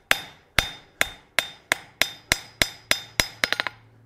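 A hammer strikes hot steel bar stock on an anvil while forging a flat chisel point for a large nail, a dozen ringing close blows in steady rhythm, quickening into a rapid burst of lighter taps at the end.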